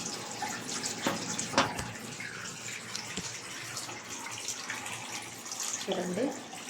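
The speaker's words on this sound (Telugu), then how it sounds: "చూడండి ఇవన్నీ కడుగుతా ఉన్నాను" Drinking glasses washed by hand under a running kitchen tap late at night, water streaming steadily with occasional clinks of glass, heard close and continuous.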